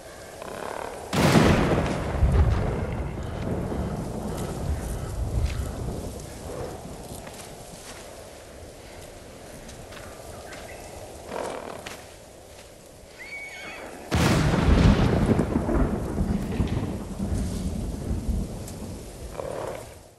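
Thunder from distant lightning in a Sucker Punch video game: two loud cracks that roll into long, deep rumbles, about thirteen seconds apart, over steady rain.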